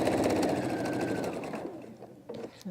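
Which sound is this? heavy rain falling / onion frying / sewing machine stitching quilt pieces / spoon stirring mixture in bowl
sewing machine stitching quilt pieces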